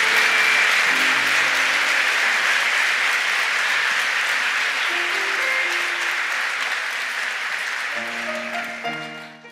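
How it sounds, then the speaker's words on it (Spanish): A church congregation claps steadily and loudly for several seconds over soft sustained musical notes, with the clapping tapering off at the end. "¿Qué tal si les aplaudimos como una forma de felicitación?"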